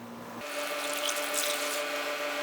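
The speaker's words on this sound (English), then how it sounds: "So I'm just gonna pour this right over our chops." Brine is poured in a steady, splashing stream over tomahawk pork chops, a continuous liquid rush that starts abruptly and holds close and fairly loud.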